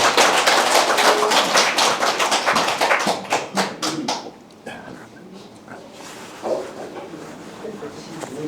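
An audience at a Gyeongnam Confucian college opening ceremony applauds to welcome a lecturer, dense clapping for about four seconds that thins into scattered claps and fades out.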